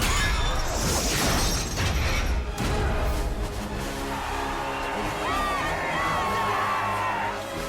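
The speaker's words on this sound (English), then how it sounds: "everyone's cheering that they've got some food" A crowd cheers and whoops in the film Mortal Engines, a busy roar of many voices with crashing and clattering early on, giving way to scattered shouts and rising whistles over a steady background.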